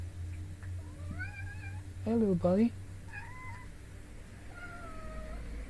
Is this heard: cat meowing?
yes